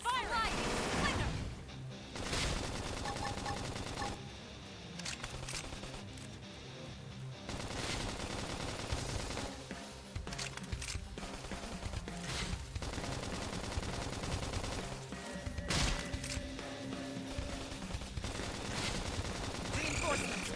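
Sustained video game battle gunfire from mech combat, with dense rapid machine-gun bursts and repeated heavy shots across the whole stretch, loud and close, mixed with crashes and in-game voices speaking.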